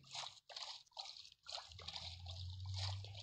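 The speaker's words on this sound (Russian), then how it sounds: "Так, я сейчас нырну под воду." Diving and swimming underwater in Minecraft, a series of muffled watery splashing and bubbling pulses with brief gaps, followed by a low underwater rumble, fairly quiet.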